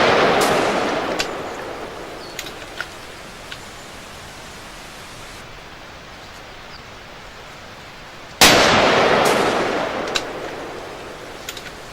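A Mauser M18 rifle in .243 Winchester fires outdoors, one sharp crack at the start and another loud report around eight seconds, over steady wind-like hiss with a few faint ticks between.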